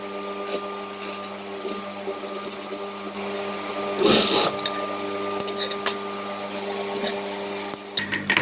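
A sewing machine hums continuously while stitching a baby frock, with small fluctuations and a brief louder clatter partway through, close and steady.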